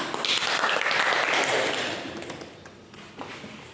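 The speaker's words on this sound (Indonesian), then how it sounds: "Oke, tepuk tangan." Students in an Indonesian classroom applaud together, brisk close clapping that fades within a couple of seconds, leaving a few scattered claps and taps.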